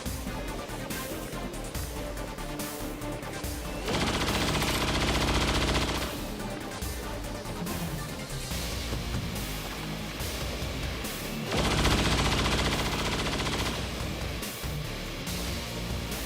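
Sustained gunfire in the tactical strategy game XCOM 2 during a tough armored-enemy fight: dense, continuous rapid shots layered over a loud, busy game soundscape, swelling into heavier bursts twice.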